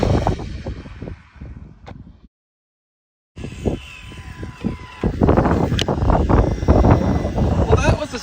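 An RC car with a Jiusi PT14R motor on a $15 ESC making a full-throttle speed run, a rising whine and rushing wind noise that cuts out briefly, then returns louder and rougher as it passes.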